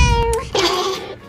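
A black house cat meows twice in quick succession, close and loud, the second call longer and rising, with no speech.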